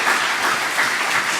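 A church congregation at a live Sunday service claps steadily and fairly loudly throughout the short stretch, with no voices over it.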